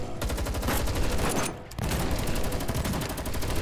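Controlled gunfire in Girl's Frontline 2 Exilium, a dense, steady stream of rapid shots, loud and close, with one brief gap before the firing resumes; no voices.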